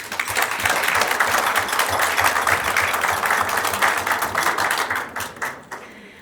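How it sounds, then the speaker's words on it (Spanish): A warm, full round of clapping from the audience at a book launch greets the presenters, staying dense and lively for several seconds before thinning out and stopping. "a quienes le damos un caluroso aplauso"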